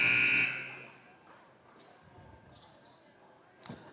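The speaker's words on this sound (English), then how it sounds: "there's the buzzer" A loud electronic buzzer sounds at a high school junior varsity basketball game, a single sustained blast at the start that fades into quieter gym noise with faint squeaks.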